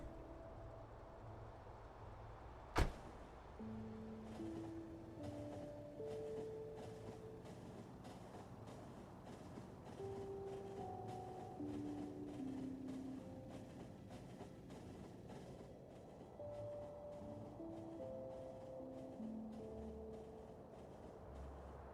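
Trains rumble along rails in the factory-building video game Factorio, a steady low rolling drone with soft tonal chimes and beeps layered over it, plus one sharp clack near the start.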